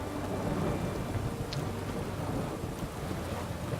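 In the PC game The Witcher 3: Hearts of Stone, rain falls in a continuous wash while low thunder rolls underneath, fairly quiet and with no talking.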